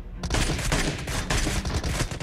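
Dense gunfire from a competitive pro scrim video game match: rapid, overlapping shots and bursts fired continuously for a couple of seconds. The volley is loud and close, with no talk over it.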